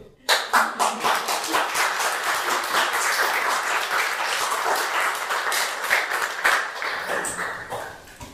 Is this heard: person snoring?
no